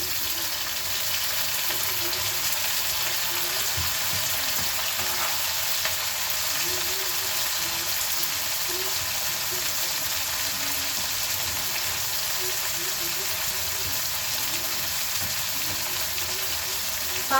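Tomatoes fry in a pan for an okra curry, producing a steady, even hiss of sizzling oil with faint bubbling that runs unbroken and fairly close throughout.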